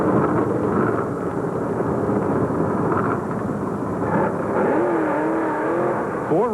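Pro Stock drag race cars, including a Ford Mustang, roar loudly and steadily at Rockingham dragway in 1975, a dense sustained engine drone that rises with revving whines near the end.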